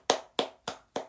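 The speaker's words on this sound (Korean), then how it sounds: "박수." Four evenly spaced, crisp single hand claps ring out one by one in a quiet room, moderately close.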